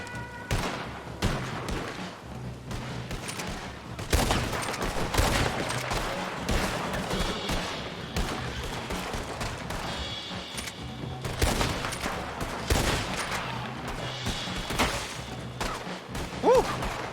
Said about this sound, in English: Shit, I'm getting shot at by every angle.